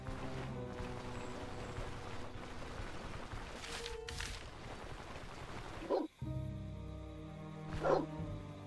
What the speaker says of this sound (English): Go away, pupper dogs.